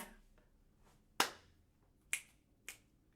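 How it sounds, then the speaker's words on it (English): Three sharp finger snaps stand out over a quiet background: one crisp snap, then a pair closer together, crisp and near. "What if instead of snapping only 1 time, we snap 2 times?"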